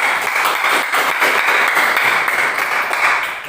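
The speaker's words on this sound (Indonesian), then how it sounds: "Kita tepuk tangan dulu." A classroom of students applauds a presenting group, a dense, loud, continuous wash of many hands clapping together without talk.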